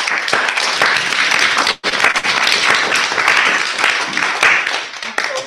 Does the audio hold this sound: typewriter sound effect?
no